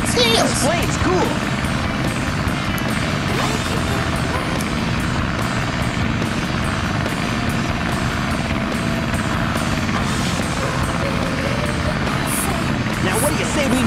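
A plane engine in a Sonic video game drones loudly and continuously, a steady propeller hum layered with game effects and music beneath.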